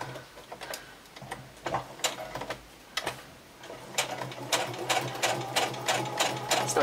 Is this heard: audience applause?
no